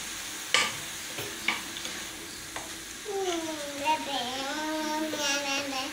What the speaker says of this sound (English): So we have to stir them together.